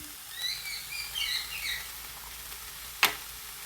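Spinach thoran with salt sizzles softly in a pan, a faint hiss with light stirring scrapes and thin squeaky chirps, then one sharp clack near the end.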